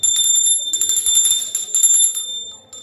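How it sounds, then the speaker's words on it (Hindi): A newly bought prayer bell decorated with a Hanuman figure rings out several times, its bright metallic tones overlapping and lingering with a steady shimmer, close and fairly loud, with no voices. "लेकिन इसकी आवाज़ वैसी नहीं है जैसे हमारी उस घंटी की रहती थी"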